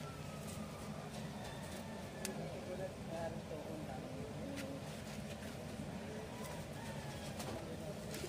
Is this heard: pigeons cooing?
yes